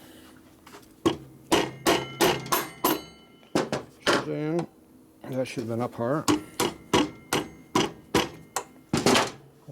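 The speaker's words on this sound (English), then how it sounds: "Here's a real hammer." Sharp metallic hammer blows on a part of a Harley-Davidson Sportster custom's wheel during a 10k service, a dozen or so close, loud strikes in quick bursts, with someone talking between them.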